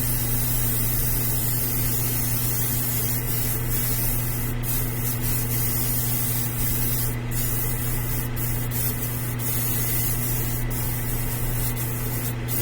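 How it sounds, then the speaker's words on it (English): Continuous hissing spray of black acrylic primer from an airbrush, a steady close-up blast with a low hum under it and a few brief sputters, no talking. "So we're going to give this a nice coat of black primer."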